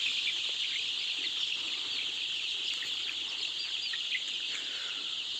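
Young roosters on a poultry farm give a steady, fairly faint chorus of clucking and calls from many birds, continuous throughout with no talking.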